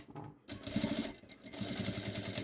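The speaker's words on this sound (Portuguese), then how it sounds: "vou rebater uma costura nas duas laterais" A sewing machine topstitches along the side seams of a synthetic backpack, a loud close steady mechanical whir with rapid needle chatter, briefly pausing then running on continuously.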